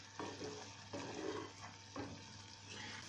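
Beaten eggs are poured all at once into a simmering tomato mixture in a pan on low heat, giving quiet repeated soft sizzling pulses over a faint steady hum, with no voices.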